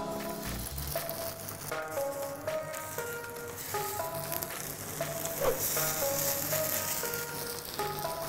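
Vegetable couscous patties fry in a little oil, giving a steady, close sizzle with light crackles, and background music plays throughout.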